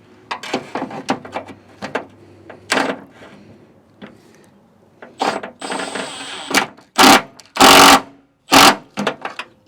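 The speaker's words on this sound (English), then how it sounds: "I am tightening them down pretty far because this trim, I gotta squish all that butyl" Metallic ratcheting and clicking as nuts are tightened down on the trim of an old station wagon, fitted over butyl weatherstrip. The clicks come in short bursts with pauses between them, close by and fairly loud, with no talk.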